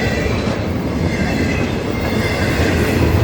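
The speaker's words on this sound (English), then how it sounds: "Oh my God, look at this big, long, beautiful train." A long freight train rolls past a crossing gate close by, a loud, steady rumble of wheels and railcars with faint squeal and clatter, continuous throughout without any talking.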